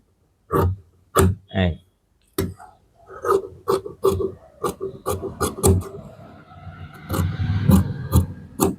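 Scissors cut through blouse fabric in a run of short, crisp snips, several in quick succession near at hand, with a brief pause before a denser stretch of cutting.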